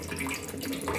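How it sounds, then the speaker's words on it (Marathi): A little water is poured into a wok, ready for boiling spinach for palak paneer gravy. It makes a brief, close, steady gushing splash with no voices. "त्याच कढईत आपण थोडंसं पाणी घालणार आहे."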